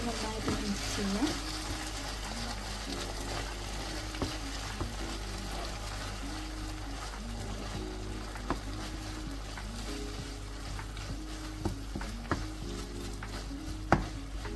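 Mushroom and melted cheese sandwich filling is stirred in a hot pan, a steady low sizzle and frying hiss with repeated soft scraping strokes of the spoon, close and continuous, with a few sharper clinks near the end.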